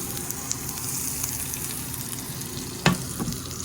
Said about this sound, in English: Cooking this motherfucking butter